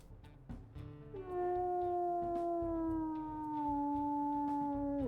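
Wolf howls from the WolfQuest video game: a long sustained tonal howl rising then slowly gliding downward, loud and clear over faint background game ambience, with no talking.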